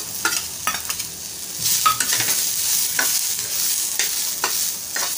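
Dried coconut sizzles in a hot pan while it is stirred, a steady close frying hiss broken by scraping spoon strokes, with no talking.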